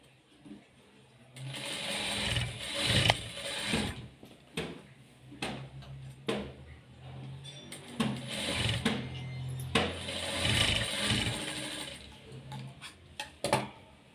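A sewing machine stitching a dart on a blouse front with lining, running in several bursts of rapid mechanical whirring separated by short pauses and clicks, close and without speech.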